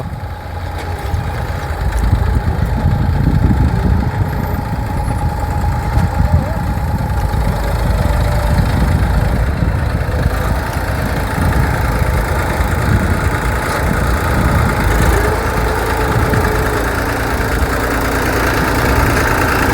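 A tractor engine idles close by, a steady low rumble with a knocking, vibrating chug that holds for the whole stretch.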